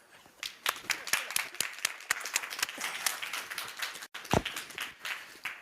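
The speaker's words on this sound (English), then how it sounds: "Feel free to applaud." A crowd applauds, dense clapping that swells and holds steady, with a brief dip before picking up again.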